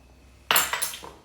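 Dry sugar and flour being stirred together with a utensil in a bowl, a brief scraping clatter of a few quick strokes against the dish, close and fairly loud, with no talking.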